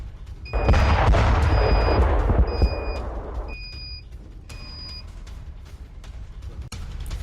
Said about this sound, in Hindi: कीव में किया है मिसाइल अटैक।